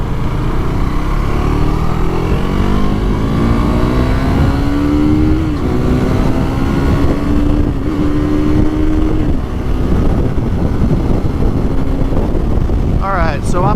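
A KTM RC 390 motorcycle engine climbs steadily in pitch as it accelerates past another vehicle, loud and close amid heavy wind rush, with a brief shift near the end.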